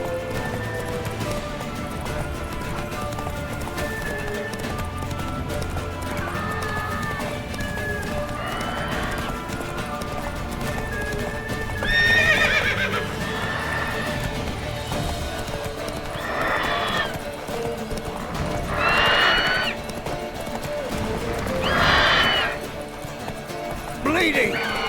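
Roach the horse galloping in The Witcher 3, rhythmic clip-clop hoofbeats under game ambience with several loud neighs and whinnies in the second half, while a voice speaks.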